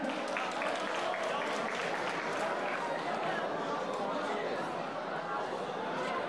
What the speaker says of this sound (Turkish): Bir alkış görümceye